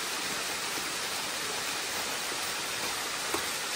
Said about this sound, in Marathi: वॉटरफॉल चालू झालाय